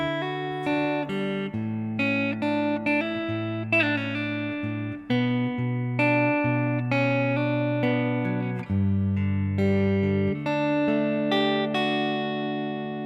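Fingerpicked acoustic guitar playing the opening line of a song, a steady run of plucked notes over low bass strings, close and clear with no talking.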